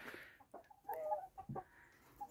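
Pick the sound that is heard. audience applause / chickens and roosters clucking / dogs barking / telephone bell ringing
chickens and roosters clucking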